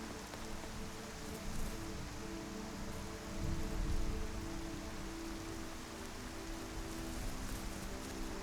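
Steady rain falling in the Skyrim video game, a soft, even hiss of drops with a brief swell partway through, heard alone without talk.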